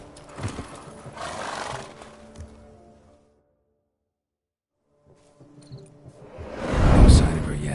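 In a PlayStation 4 video game, the horse Roach whinnies and snorts with hoof sounds, falls silent for a couple of seconds, then gives a louder, closer burst of neighing and movement.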